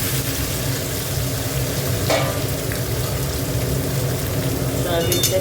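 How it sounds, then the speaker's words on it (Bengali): Soybean chunks fry in a pan with a steady, close sizzle that runs throughout, with a few brief spatters and clinks rising above it. "সয়াবিনটা একটু ভালো করে ভেজে নেব।"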